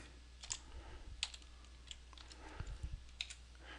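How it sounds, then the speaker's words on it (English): Password keys tapped on a computer keyboard while logging in as administrator to a Windows Server instance, a quiet run of separate clicks and short bursts of keystrokes over a few seconds with no talking. "my password, which I have to type"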